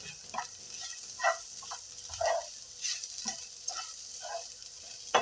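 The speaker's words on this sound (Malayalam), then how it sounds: "പച്ചമണം മാറുന്നത് വരെ നമുക്കൊന്ന് ഇളക്കി കൊടുക്കാം" Chili and turmeric powder stirred in a frying pan, a soft sizzle under intermittent close scraping strokes of a spoon against the pan.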